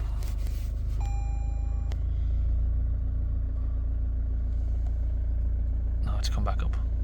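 A Toyota Land Cruiser diesel with a blocked DPF idles after a restart, a steady low rumble throughout, with a brief tone near the start and someone talking over the engine toward the end.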